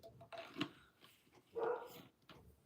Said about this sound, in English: I just heard a dog bark